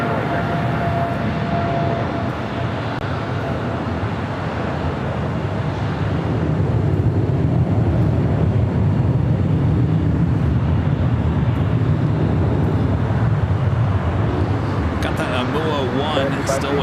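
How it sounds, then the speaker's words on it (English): Corporate jet landing on runway 25 left at LAX, a steady broad engine roar that builds in loudness partway through and holds, continuous and fairly close, with radio chatter faintly underneath. "Another corporate jet about to land, 25 left."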